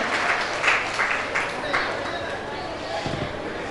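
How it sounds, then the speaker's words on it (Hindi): Applause from an audience at an honoring ceremony, a steady wash of clapping running the whole time with a few louder bursts, joined by murmuring crowd voices. "आइए एक बार जोरदार तालियों से उनके प्रति अपना स्नेह और आदर प्रकट करें"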